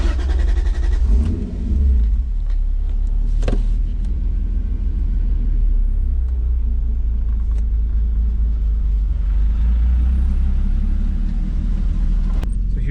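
Car with a 2JZ engine and T56 gearbox with a twin-disk clutch pulling away from a stoplight, a steady low engine rumble heard from inside the cabin, smooth without sharp revving.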